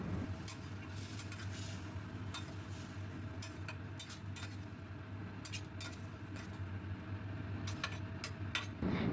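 A spoon stirs a coconut and poppy seed paste curry with jackfruit seeds and added water in a pan. Faint, intermittent scraping clicks sit over a low, even background hiss; the sound is quiet and there is no talking.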